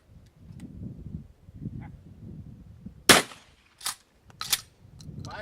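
Live-fire gunshots at Puʻu Anahulu ring out as three sharp, loud reports spaced about a second apart, each with a short echoing tail, over a low rumble of wind and background noise.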